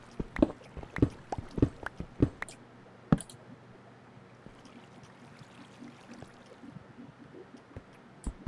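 Water dripping nearby inside a video game cave, a series of sharp irregular plinks and clicks, clustered early then sparser over a quiet background hiss.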